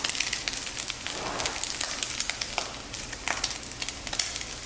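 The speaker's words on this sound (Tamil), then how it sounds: "இந்த மாதிரி ஆகுனே நம்ம வந்து ரைஸ் சேர்க்கலாம்." Rice goes into a hot pan of sizzling egg fried rice, producing a dense crackling sizzle with irregular pops and bursts, close and continuous.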